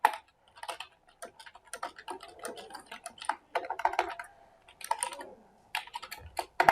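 Rapid, uneven clatter of computer keyboard keys in several bursts with short pauses, close and fairly quiet, while text is typed up for a code-repository issue.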